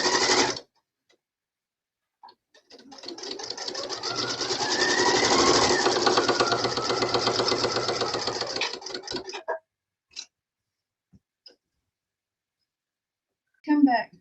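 A sewing machine stitches through fabric in one continuous run of fast, even mechanical chatter lasting about seven seconds, close by, followed by a few isolated clicks and quiet gaps.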